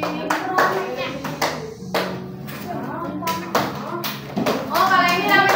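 Children clap their hands in a classroom activity, with sharp bursts of claps in short groups and pauses between, mixed with children's voices and an adult speaking over them.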